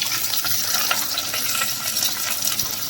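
Sweet corn kernels frying in a pan alongside paneer, a steady bright sizzle with light stirring scrapes and faint clinks running throughout, close and fairly loud with no voices.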